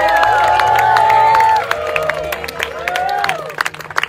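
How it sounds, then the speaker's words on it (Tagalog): Wedding guests clap and cheer for the newlyweds, a steady crowd roar with whoops and shouts, while a sustained musical tone and voices carry over it early on. "Let's give them a round of applause."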